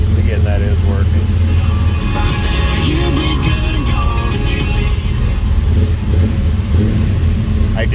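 A 1969 Chevrolet Nova's engine runs steadily and loud after a short warm-up, a cold-blooded idle rumbling with mechanical clatter throughout, while someone talks over it.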